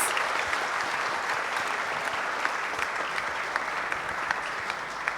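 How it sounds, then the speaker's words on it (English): Applause from a broadcast conference audience for panelists, a dense and steady wash of many hands clapping with occasional sharper claps standing out, heard alone. "A huge round of applause for our panelists."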